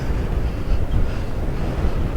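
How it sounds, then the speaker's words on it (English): Strong wind buffets the microphone on James's Island, a steady low roaring rumble with gusting swells that rise and fall throughout, loud and unbroken with no voices. "it's a bit too windy to film"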